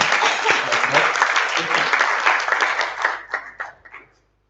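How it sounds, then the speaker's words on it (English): Loud audience applause at a sommelier competition, dense clapping close by that thins into scattered claps and fades out near the end, with a few voices mixed in. "So applause to Russia."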